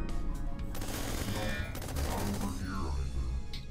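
Sentry turrets in the video game Bionic Dues fire in dense, continuous bursts of rapid gunfire. The shots pile up into a loud, sustained barrage that runs through the whole stretch, with layered electronic game effects over them.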